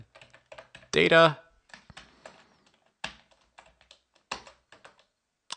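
Close, crisp computer keyboard typing in irregular bursts of taps, with a brief spoken word breaking in partway through.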